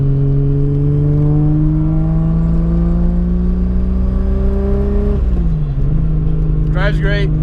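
A Nissan 300ZX fitted with a 2JZ engine cruises on the road, its loud steady engine drone rising slowly in pitch through a gear, then dropping briefly at a shift before settling again.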